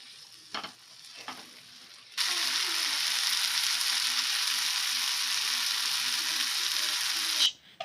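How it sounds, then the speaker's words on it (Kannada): Potato sukka fries in oil in a pan, a few soft knocks at first, then a loud, steady, hissing sizzle that fills several seconds and cuts off at the end. "ಒಂದು 10 ಮಿನಿಟ್ಸ್ ಚೆನ್ನಾಗಿ ಫ್ರೈ ಆಗಬೇಕು. ಆಯಿಲೆಲ್ಲ ಮೇಲೆ ಬರಬೇಕು."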